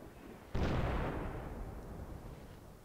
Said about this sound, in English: That's their artillery, right?